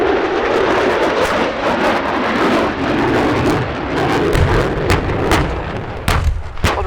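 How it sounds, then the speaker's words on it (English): A US Air Force Rockwell B-1B Lancer bomber passes over RAF Cosford Airshow 2017 in bad weather, its loud, rumbling jet roar filling the air continuously with harsh crackling bursts. "In the worst of the weather, a Rockwell B-1B Lancer from the United States Air Force."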